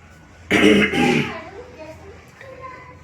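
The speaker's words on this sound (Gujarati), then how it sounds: "તો ગાઈસ થોડી ખાંસી થઈ ગઈ" A person coughs in one short, loud burst of a few hacks, which then trails off into quiet room noise.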